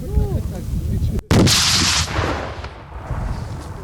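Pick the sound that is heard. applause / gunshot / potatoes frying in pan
gunshot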